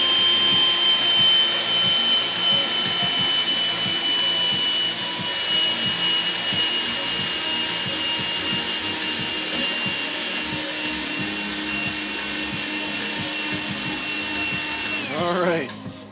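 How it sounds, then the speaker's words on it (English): A small portable vacuum cleaner whines steadily at close range with a high sustained tone and pulsing rattles, then winds down quickly at the end as it is switched off. "Thank goodness for little portable vacuums, huh?"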